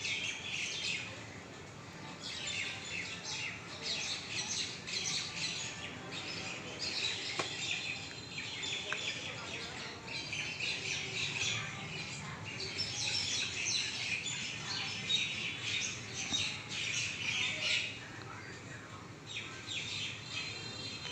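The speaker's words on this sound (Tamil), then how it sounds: "இந்த மைனா கண்டினியூவாக கற்றுவாங்க" A flock of mynas calls continuously after rain, a dense distant chorus of chirps and chatter that carries on steadily without pause and sounds fairly faint.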